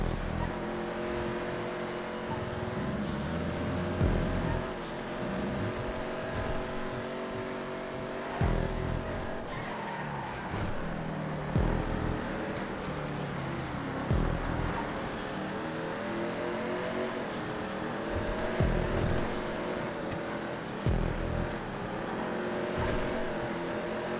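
A Dominator muscle car in a GTA 5 race roars continuously, its engine revving up and down through gear changes with brief dips, steady and close throughout.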